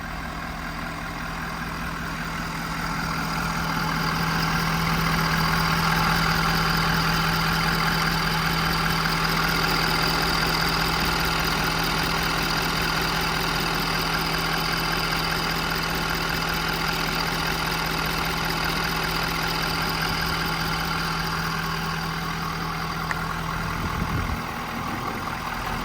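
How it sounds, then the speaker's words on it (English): A 2018 Ford F550 diesel service truck with 172k miles idles steadily close by, its low engine drone constant while it backs up, with a brief change near the end. "I'm going to back it up here and then we'll take a look at it"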